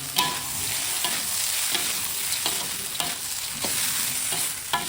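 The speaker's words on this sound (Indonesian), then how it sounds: "ini kita aduk kembali biar merata" Rice stirred in a pot with a light sizzle underneath, regular scraping strokes of the spoon recurring about every second, close and clear with no voices.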